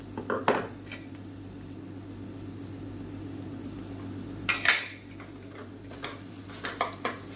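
Onion with ginger-garlic paste being sautéed in a pan for a curry: a spoon clanks and scrapes against the pan in sharp bursts over a low background hum and faint frying hiss.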